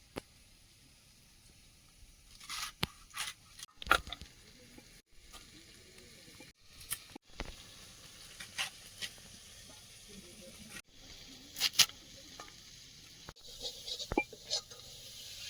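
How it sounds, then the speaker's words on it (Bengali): Shrimp sizzling in hot oil nearby, a steady soft hiss broken by sharp crackles and pops scattered throughout. "চিংড়িটা ভাজা হয়েছে তুলে নেব"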